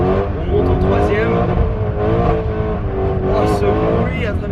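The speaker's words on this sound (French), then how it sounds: "ce bruit à travers le straight pipe est dingue" A loud, continuous supercar engine roar through a straight-pipe exhaust fills the whole stretch, rising and falling with revs during drift driving, while a person talks excitedly over it.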